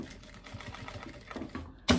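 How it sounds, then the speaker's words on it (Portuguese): A sewing machine stitches a fabric pocket onto the zipper fly of a pair of wide-leg cropped pants. It makes a steady, rapid mechanical whir with rhythmic needle pulses, close up, and ends with a brief louder clunk. "E vou costurar esse tecido prendendo a minha frente, o meu bolso aqui na minha braguilha"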